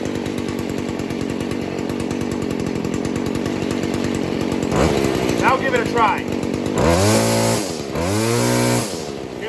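A Stihl FS 40c weed eater's small two-stroke engine runs steadily, then revs up hard twice during carburetor tuning, loud and close, with someone talking over the idle.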